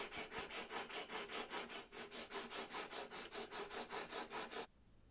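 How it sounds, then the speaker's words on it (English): A hand plane blade from a vintage Draper No.5 jack plane is rubbed back and forth on a whetstone with slurry, giving about twenty even, rhythmic gritty scraping strokes, close and steady, then stopping. "I'm working up through the grits 400, 600 and 1000, and then onto the honing guide to sharpen the cutting edge"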